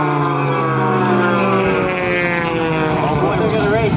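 Jet truck engine roaring at a Rhode Island air show, a loud, steady whine with tones that sweep and shift as the engine revs, heard close and continuously throughout.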